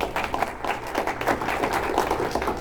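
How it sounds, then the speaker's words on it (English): A small audience at a talk on relationships applauds steadily, a dense, moderately loud patter of many hands that holds level for a couple of seconds without pause. "Beth wants to give a round of applause"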